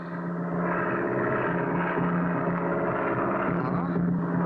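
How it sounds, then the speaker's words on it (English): A propeller plane's engine drones steadily with a buzzing hum, fairly close and constant, without any speech over it. "I hear it. It's a plane."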